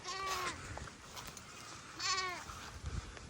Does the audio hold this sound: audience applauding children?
no